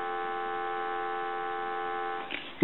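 An original Snoopy and Woodstock novelty telephone gives a steady, continuous dial tone at moderate level, ending with a short click of handling.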